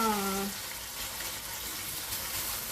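Beef searing in a pan over a high flame, a continuous sizzle and fry crackle heard after a brief bit of speech.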